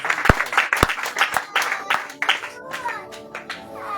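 A church congregation applauds with loose, irregular claps, several sharp near hand claps standing out at first, then a quicker patter of clapping mixed with a few voices.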